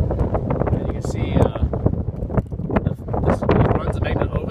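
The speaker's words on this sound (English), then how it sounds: "It's windy today" Gusty wind buffeting the microphone with rough, low rumbling thumps that rise and fall throughout, loud and close.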